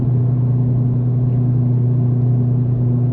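A 2025 Honda Civic Type R with its dual resonators deleted drones steadily from inside while driving, a constant mid-low engine and exhaust hum without talk or sharp revs.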